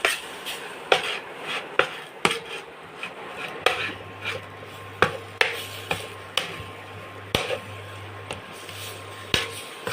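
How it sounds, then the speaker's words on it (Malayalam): A spoon scraping and knocking against a pan while stirring Kerala fish curry masala in oil, with sharp irregular taps and clinks every second or so over a low continuous hum, close and clear, without talk. "ഇത് നമ്മൾ നല്ല വൃത്തിയായിട്ട് ഇളക്കി കൊടുക്കുക"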